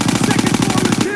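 Machine gun fire in a World War II combat game battle inside a building: a loud, rapid, continuous burst of closely spaced shots lasting just over a second, close and dominating the sound.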